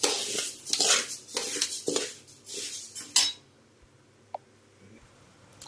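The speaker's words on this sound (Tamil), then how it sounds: "நம்ம பெரிய வடைச்சட்டியில் போட்டு நல்லா கொஞ்சம் இளவரப்பாக வறுத்துக்கிறோம்" Ragi roasting in a large kadai makes a run of close metallic scrapes and clinks as a ladle stirs it for about three seconds, then goes quiet apart from one small tap.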